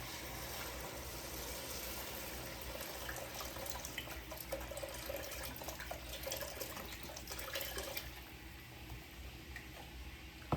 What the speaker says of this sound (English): 3 cups of chicken broth go in